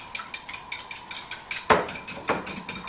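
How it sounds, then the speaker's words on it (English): Eggs and milk being stirred for scrambled eggs, a utensil clicking against the bowl in a steady quick rhythm of light taps, with two louder clatters near the end, close and fairly quiet. "So I'm going to just give that a little bit of a stir"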